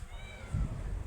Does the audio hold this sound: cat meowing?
yes